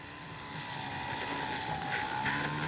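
Small Dynam Tiger Moth RC model biplane on a 4S battery at full throttle, a steady whining electric motor and propeller drone holding constant, fairly close, with wind noise and no talk.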